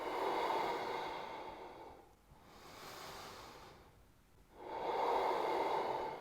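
Slow, audible breaths during a standing yoga pose: a long exhale, a quieter inhale, then another full exhale, close and unhurried with no talking.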